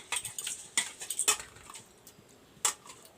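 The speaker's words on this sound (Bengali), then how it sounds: "ডালটা আমি ভালো করে ধুয়ে নিচ্ছি" Masoor lentils are washed in a pot, with a few sharp metallic clinks and scrapes in uneven bursts, close and fairly quiet.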